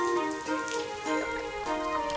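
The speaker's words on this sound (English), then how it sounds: "Oh, the rain has become quite heavy." Heavy cartoon rain falls steadily over a bright children's song, tonal music running throughout with the patter of the downpour blended beneath it and no voices on top.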